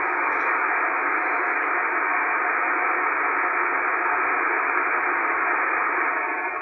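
Steady, loud hiss of static comes from a shortwave radio tuned near 14,000 kHz in upper sideband mode, unbroken and without voices throughout.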